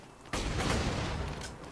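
A rocket explosion in Borderlands 2 erupts as a sudden loud blast, followed by a rumbling, crackling roar that slowly fades, with a second smaller burst near the end and no talk.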